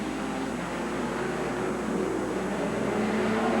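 Race cars roar in a 1985 figure 8 race at Riverhead Raceway, New York, a dense, steady engine din that stays loud and unbroken throughout.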